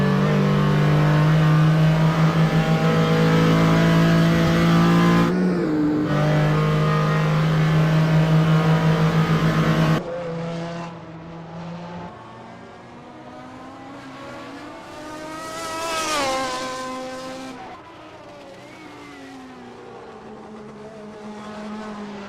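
Porsche 935 K3 race car engine in a historic sportscar racing game at Road Atlanta, loud steady high revs with a gear change, then rising and falling engine notes as other cars pass, with some tire squeal.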